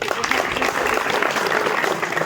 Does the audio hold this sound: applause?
yes